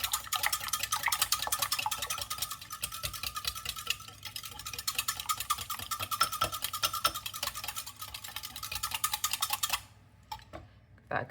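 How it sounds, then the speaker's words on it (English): Rapid, rhythmic wire-whisk strokes beat sponge cake batter in a bowl, a close scratchy ticking that runs continuously for about ten seconds before stopping, followed by a few faint clinks. "A good whisk and pop it to one side."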